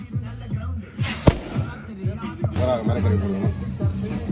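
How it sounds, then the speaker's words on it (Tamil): Sharp firecracker bangs crack out over a busy crowd at a Pongal festival celebration, with people talking and calling throughout and a loud pop standing out midway. "இவர் பாதுகாப்பான வெடிகுண்டு"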